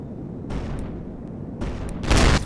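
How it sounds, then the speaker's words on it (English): Hunter missiles in a video game launch and strike their targets, a short run of sharp firing bursts followed by a louder, broadband impact blast near the end, with nobody speaking. "We fixed the hunter missiles so they actually hit their targets now."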